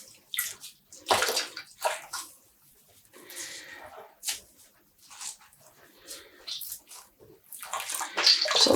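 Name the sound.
squeezing water out of dyed yarn skein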